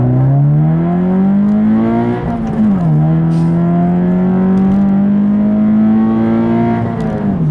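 A 2014 Subaru BRZ accelerates hard, its engine revving up through rising pitch, dropping briefly on a gear change near the middle, then climbing again, loud and close with no talk.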